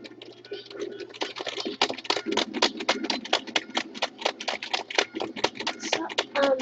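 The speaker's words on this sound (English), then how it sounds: "Ignore the typing stuff." Rapid keyboard typing during a Super Smash Flash game session: dense runs of sharp key clicks in quick bursts, fairly close, with game sounds faintly beneath.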